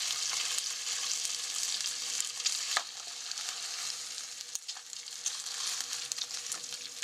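Skin side of a red sea bream fillet searing in a hot pan, a bright, dense sizzle and crackle that holds steady throughout with a few sharper pops, no voices.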